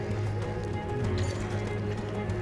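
Horses gallop in the Red Dead Redemption 2 video game, a loud, steady run of hoofbeats over a low rumbling background, with faint voices mixed in.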